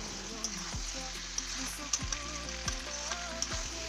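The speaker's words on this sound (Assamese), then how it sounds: "আৰু এইখিনিও অলপ সময় মই লাৰি ভাজিম।" Pieces of meat and potato fry in a pan with spices, a steady close sizzle broken by a few light stirring knocks and scrapes, no talking.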